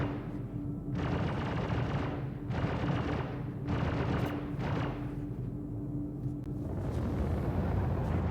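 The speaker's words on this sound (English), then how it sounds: "What are they shooting at?" Heavy bursts of video game gunfire come in several long volleys separated by brief pauses, loud and booming, with a steady low hum beneath.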